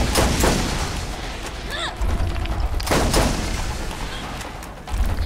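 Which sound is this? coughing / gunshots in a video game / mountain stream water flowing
gunshots in a video game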